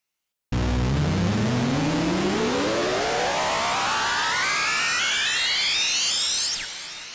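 A synth riser made in Logic Pro X's Alchemy from a sustained note, layered passes sweeping steadily upward in pitch for about six seconds, loud and continuous, ending on a high held tone that abruptly cuts off.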